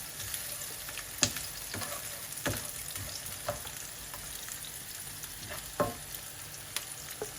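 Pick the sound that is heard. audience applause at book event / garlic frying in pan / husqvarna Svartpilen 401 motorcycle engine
garlic frying in pan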